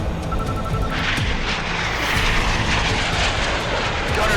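A fighter jet engine strains and roars loudly and continuously in a Top Gun-style air combat scene, a dense, steady rumble with occasional sharp bursts over it.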